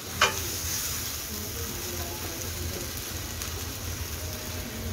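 Eggplant frying in a pan at an outdoor evening meal, a steady close sizzle and hiss with a brief clatter at the start and faint low background murmur underneath.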